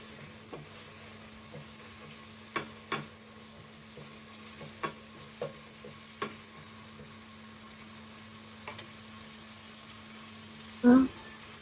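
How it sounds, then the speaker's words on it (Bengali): An egg is added to a hot pan of spiced masala and stirred while it fries. A low sizzle and hum sit under intermittent utensil taps and scrapes, and a louder clatter comes near the end. "ডাল দেওয়ার আগে আমি একটা ডিম দিয়ে দিলাম এখানে।"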